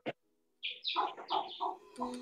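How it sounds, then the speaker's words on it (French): Birds chirp and tweet at a nearby home garden, a brief cluster of bright calls, fairly clear after a soft knock, with no talk over them. "J'entends les oiseaux chez quelqu'un."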